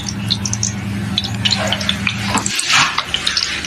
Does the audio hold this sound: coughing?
no